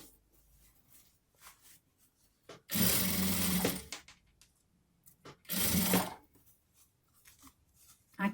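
A sewing machine runs in two short, close bursts while stitching a satin-trimmed sweatshirt blouse near a zipper, with quiet handling sounds between the runs.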